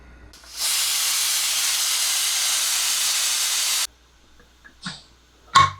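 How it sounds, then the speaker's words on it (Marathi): A pressure cooker cooking green mung beans releases steam in one loud, continuous hiss lasting about three seconds, then cuts off sharply, leaving quiet with a couple of small kitchen knocks. "हे आता आपण कुकरला लावून एक साधारण तीन शिट्या घेऊया"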